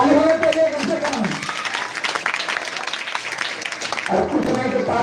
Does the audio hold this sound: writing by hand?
no